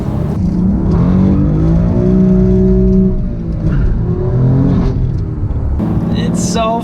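A rear-wheel-drive BMW M4 accelerates hard, its engine loud and close with a rising, sustained roar, pitch climbing through gear changes as the tires struggle for traction.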